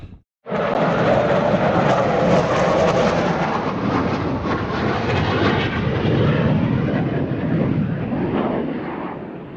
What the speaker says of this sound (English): I think they're F-15s, two of them just gone past